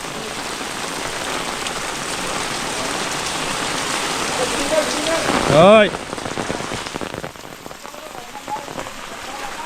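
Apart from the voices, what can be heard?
heavy rain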